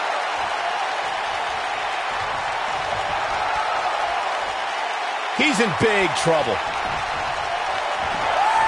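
A capacity wrestling arena crowd roars in a steady, dense wash of cheering, with a commentator talking loudly over it and a brief burst of cries midway.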